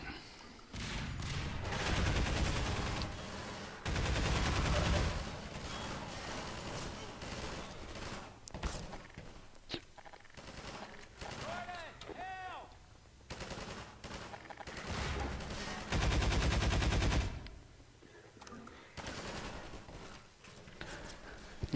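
Pulse rifle and SMG fire from the Half-Life 2 video game crackles in sustained automatic bursts, several loud volleys separated by quieter stretches of game noise, with a faint voice now and then.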